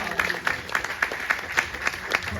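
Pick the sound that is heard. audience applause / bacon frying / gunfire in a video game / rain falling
audience applause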